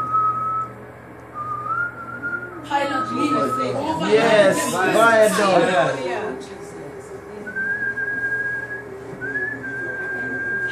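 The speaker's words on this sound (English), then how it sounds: "So while I'm working, I kind of whistle." A person whistles a tune in clear sustained notes, with phrases at the start and end, while crowd chatter and speaking voices fill the middle stretch.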